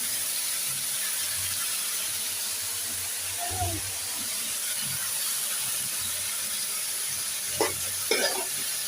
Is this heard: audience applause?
no